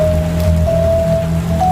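Steady rain falling in a continuous even hiss, close and moderately loud, with a low hum underneath and no speech.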